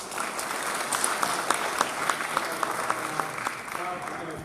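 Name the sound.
audience applause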